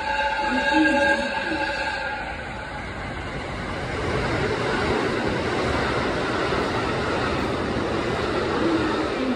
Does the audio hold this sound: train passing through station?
yes